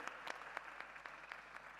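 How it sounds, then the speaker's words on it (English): A short burst of scattered clapping from a small crowd at a design thinking challenge event, fairly faint and distant, with no voices over it. "Let's give them a round of applause to all the teams"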